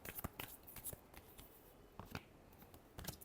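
Tarot cards being shuffled by hand, giving a series of soft papery riffles and taps in uneven bursts, close and quiet, with no talking.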